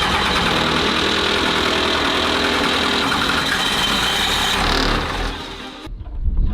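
A compound-turbo 12-valve Cummins diesel cranks steadily without catching, a loud, continuous churning roar for about five seconds that cuts off abruptly, leaving a brief quieter rumble.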